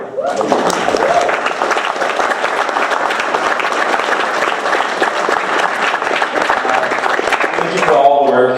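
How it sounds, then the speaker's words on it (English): Wedding reception guests give the bridesmaids a steady round of applause, dense and close, lasting several seconds before a voice resumes at the end. "Can we get a round of applause for how beautiful they look?"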